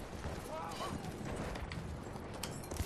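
Horse hooves galloping in the World War I shooter Battlefield 1, a rapid clip-clop rhythm mixed into busy game noise and distant gunfire, with people talking over it.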